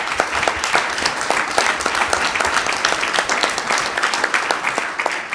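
A crowd at an MTA board meeting applauds in a steady, dense burst of many hands clapping, loud and continuous throughout with no talking.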